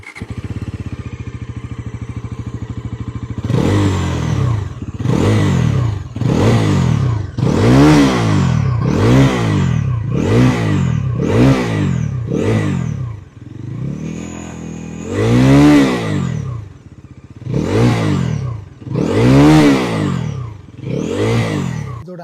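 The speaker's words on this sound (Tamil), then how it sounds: "இப்போது இதோடைய எக்ஸாஸ்ட் நோட் எப்படி இருக்குது அப்படிங்கிறத பார்க்கலாம்." Bajaj Pulsar NS400Z (2025) with underbelly exhaust revving hard in a dozen sharp, rhythmic blips, each rising and falling, over a steady idle; loud and close with no talk.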